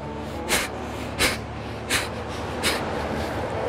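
Forceful bursts of breath pushed out through the nose during a yoga pranayama breathing exercise, four sharp snort-like exhalations at steady intervals, close and alone over a quiet room background.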